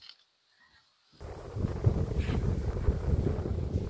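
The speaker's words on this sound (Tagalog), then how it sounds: "sobrang lakas ng hangin" Strong wind at a riverside picnic spot buffets the microphone with a loud, rumbling roar that starts abruptly after a second of near silence and then holds steady.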